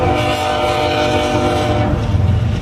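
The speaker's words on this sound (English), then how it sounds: "That's a big train." A large train rolls close by with its horn blaring, a loud sustained chord sounding for about two seconds before giving way to the rumble of the passing cars.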